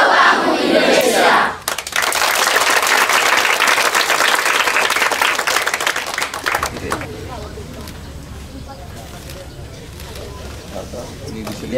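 Students and guests at a school event clap and cheer loudly, with shouts rising over dense applause near the start before the noise thins and a voice talks over the fading crowd.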